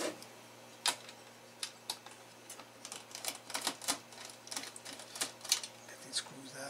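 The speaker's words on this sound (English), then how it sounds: "Get these screws out" Screws are worked out of an ASUS Phoenix GeForce RTX 3060 graphics card during a fan replacement, making quiet, close, irregular clicks and small metallic ticks in uneven clusters over a faint hum.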